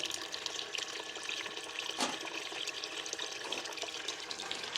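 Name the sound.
water flowing through gold prospecting sluice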